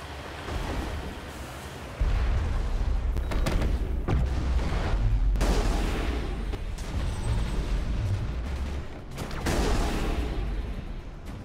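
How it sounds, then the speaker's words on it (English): Heavy artillery gun firing in the video game Mass Effect: deep, loud booms and rumbling blasts rolling over a dense low roar, with sharp transient hits throughout and no speech. "We must find a way to disable their artillery."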